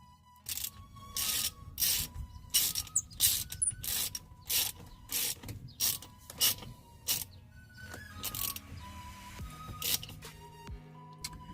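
Ratchet clicking in quick repeated bursts while tightening the steering wheel security bolts on an Infiniti G20, close and crisp, with brief pauses between strokes.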